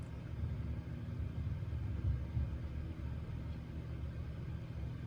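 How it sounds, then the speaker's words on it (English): A garbage truck outside, heard from indoors as a steady low rumble of its engine, muffled and moderately distant, with a couple of slightly louder surges midway and no talk. "If you hear a noise, it's the garbage truck outside."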